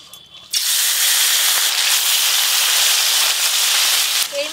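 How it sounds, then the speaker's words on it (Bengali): Fish sizzling in well-heated oil for a bengali-style fish dish, a dense, steady, loud hiss and crackle that starts abruptly after a brief quiet moment and holds evenly to the end. "তেল তো বেশ ভালো করে গরম হয়ে গেছে, মাছগুলো ভেজে নেব।"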